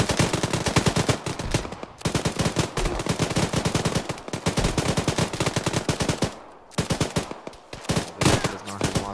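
Rapid bursts of automatic gunfire and grenade launcher blasts in a military video game, loud and close, firing in long rattling strings with brief pauses between.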